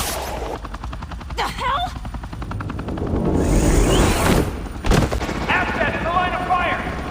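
Police gunfire in the Batman Telltale video game, sharp shots and bursts over a noisy action backdrop, with someone shouting briefly in the middle of the scene.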